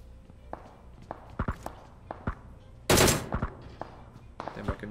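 Gunfire in PUBG Mobile sounds as scattered sharp shots and one loud burst near the middle, mixed with footsteps and faint game sounds.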